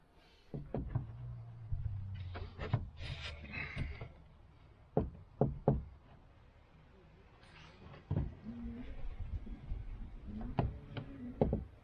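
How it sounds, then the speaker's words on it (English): A tack is tapped into a wooden allotment shed door, a handful of sharp separate knocks spaced through the clip between quieter rustling and handling sounds. "I'm going to put one tack through there and see if I can just hold it in place for now."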